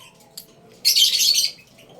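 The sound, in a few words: African lovebirds chirping in an aviary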